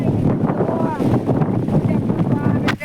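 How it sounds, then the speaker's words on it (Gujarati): Strong wind roars and buffets the microphone during rainfall in the hills, a dense, steady rush of noise that stays loud and close throughout, with a brief dip near the end. "વાહ આવે ફૂલ વરસાદ અંધારો છે."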